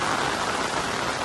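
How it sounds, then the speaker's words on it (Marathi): Rain in the Konkan during the Ganesh festival pours down as a dense, even hiss that fills the short stretch and then cuts off abruptly. "आम्ही बाहेर पडताच आला पाऊस."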